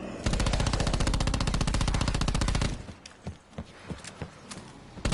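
Rapid automatic gunfire in Black Ops 4 Zombies as a gun empties its ammo in one long, loud, steady burst for about two and a half seconds. Scattered clicks and thuds follow afterward.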